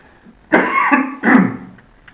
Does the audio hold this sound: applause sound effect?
no